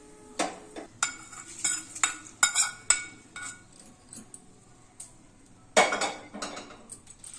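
Dal curry with toor lentils and ponnaganti greens stirred in a metal pot, a series of sharp clinks and scrapes from the spoon against the rim in uneven bursts, close and fairly loud with quiet gaps between.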